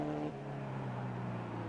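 Racing cars at the 1962 Mosport Players 200, among them under-2-litre Porsches, give off a steady engine drone with a pitch that shifts as they pass.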